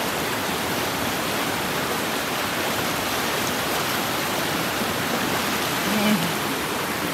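Floodwater rushing in a steady, loud, unbroken roar during Typhoon Agaton on a farm, with no letup from start to finish.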